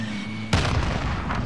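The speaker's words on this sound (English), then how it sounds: "Throwing frag." A frag grenade detonates in a shooter video game, one sudden broadband blast after a quiet half second, trailing into a rumbling decay.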